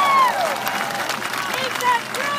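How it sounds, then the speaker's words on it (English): Crowd applause and cheering at an outdoor Washington, DC political rally for Senator Ron Wyden, sustained clapping with a whistle or two rising above the noise of the crowd. "Everyone, one more big round of applause for Senator Ron Wyden."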